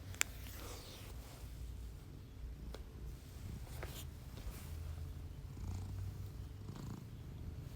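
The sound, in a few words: cat purring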